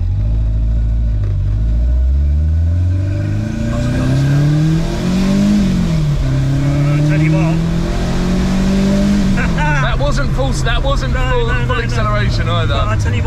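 A Renault 5 Turbo 2 sports car accelerates hard. The engine note climbs through the gears, falls at each shift, then rises again, loud and close from inside the cabin.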